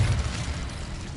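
An Incendio fire spell cast in Hogwarts Legacy gives a dense, roaring whoosh with a low rumble, held steady and fairly loud for just over a second.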